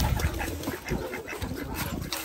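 Several yard ducks quack loudly and continuously at close range, their harsh, overlapping calls filling the whole moment.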